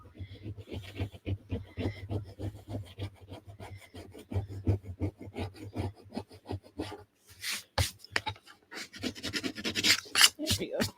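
Glue being scraped off a surface by hand, a rapid run of short rasping strokes in steady rhythm, close and fairly loud, followed by a few sharper scraping bursts toward the end.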